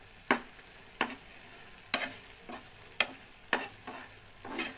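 Dal being stirred in a pan with chili powder and salt: a soft sizzle underneath regular, sharp spoon strokes against the pan, roughly one per second, close up with no voices.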